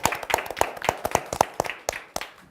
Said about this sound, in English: So can we get a round of applause for our control room?